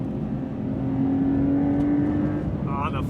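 The flat-six engine of a 2025 Porsche 911 Carrera T holds a smooth, steady note while accelerating through winding S-bends, heard from inside the car, with a brief higher sound near the end.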